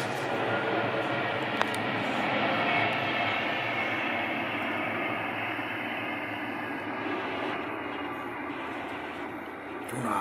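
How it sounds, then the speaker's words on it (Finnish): A train passes by in the open, a broad, steady rumble and rushing noise that holds at an even level throughout and fades slightly toward the end. "Juna meni."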